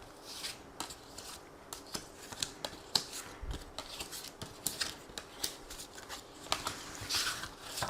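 Oracle cards from an oracle des miroirs deck are shuffled and drawn by hand: soft, close riffling with a run of crisp little card slaps and flicks, quiet and uneven in rhythm.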